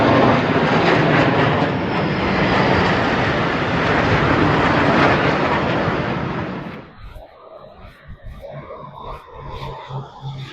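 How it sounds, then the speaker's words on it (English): Airplanes pass overhead trailing smoke in French flag colours over Paris's Île de la Cité: a loud, sustained roar of aircraft engines fills the first seven seconds, then fades away into quieter street ambience. "they had smoke trailing behind them in the colors of the French flag"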